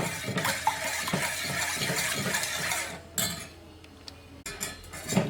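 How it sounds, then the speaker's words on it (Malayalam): Stirring jaggery syrup with cardamom powder and coconut milk for Vishu Katta, a spoon scraping and clinking steadily against the pot for several seconds, close and fairly loud, with brief pauses near the end and no talk. "ഇനി നമുക്ക് നന്നായിട്ടൊന്ന് മിക്സ് ചെയ്ത് കൊടുക്കാം"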